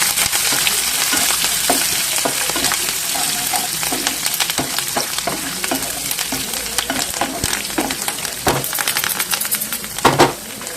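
Chopped garlic, dried red chilies and curry leaves fry in hot oil with a dense, steady crackling sizzle, broken by frequent clinks and scrapes of a spoon against the pan.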